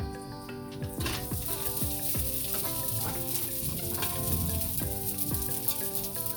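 Rice with ham stir-fries in a pan, a dense continuous sizzle broken by repeated scraping and clattering strokes of the utensil against the metal, loud and close throughout.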